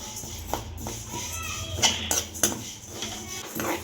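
Moong and urad dal roast in a kadhai over a low flame, with a ladle scraping and clinking against the metal in soft, irregular strokes, close and moderately loud.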